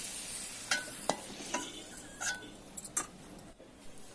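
Golden potatoes frying in hot oil, a soft sizzle underneath a series of sharp metallic clinks and scrapes as a utensil stirs and lifts the pieces, close and alone with no voices.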